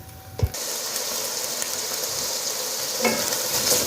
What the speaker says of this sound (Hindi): अभी इसे पकने देंगे ताकि ये पानी खुश्क हो जाए।